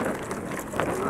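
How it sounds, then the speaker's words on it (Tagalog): Strong wind buffets the microphone outdoors, giving a loud, continuous roaring rush with no break across the whole moment. "Lakas ng hangin."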